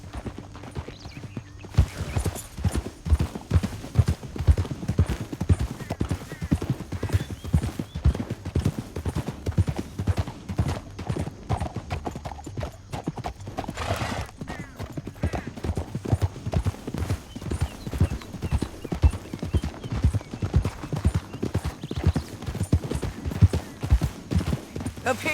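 Horses gallop across open country in Red Dead Redemption 2, a dense rapid drumming of hooves throughout with a brief whinny midway and faint voices underneath.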